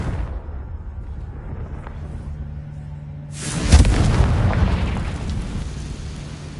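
Bombarda and Confringo spell explosions in the Hogwarts Legacy video game, a low rumbling ambience that erupts into one loud booming blast with a long crackling, roaring decay.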